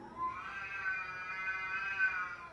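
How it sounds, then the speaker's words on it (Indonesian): Drawn-out, wavering cat yowls rise and fall continuously, a tense caterwauling like cats squaring off, fairly close and steady throughout. "Ia pun belajar sampai ketiduran yang diiringi suara kucing lagi gelut"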